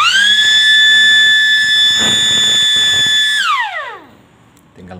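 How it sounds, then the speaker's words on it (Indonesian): A loud electric building alarm siren of about 110 decibels blares a steady multi-tone whine, then winds down quickly in pitch and falls silent, followed by a faint click. "Dengan kekuatan suara sirene sekitar 110 desibel ya, sangat keras sekali."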